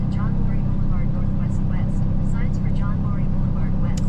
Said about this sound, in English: And the sound you hear is the exhaust brake.